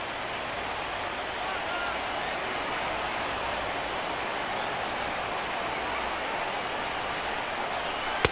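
Rain falls at a ballpark in MLB 17 The Show as a steady, even hiss that stays constant throughout, ending in a single sharp click.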